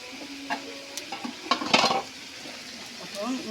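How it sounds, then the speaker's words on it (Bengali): Pumpkin pieces tossed and stirred with spices in a hot pan beside braised tilapia curry, giving steady oily sizzling with scraping spoon strokes and a few clinks of metal on the pan, close and alone. "এখন মিষ্টি কুমড়াটা আমি ঢেলে দিলাম, দিয়ে ওই মশলার সাথে মাখা"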